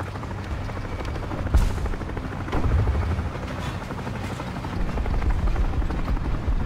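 In War Thunder, a helicopter's rotor chop drones steadily at moderate volume, a continuous low thumping with faint bursts of game noise over it and no speech.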